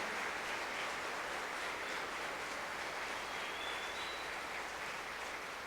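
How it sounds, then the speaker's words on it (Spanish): A church congregation applauds during a Spanish-language service, a dense, steady wash of many hands clapping that holds evenly throughout with no voices on top. "¿Puede darle un aplauso al Señor bien grande en esta hora?"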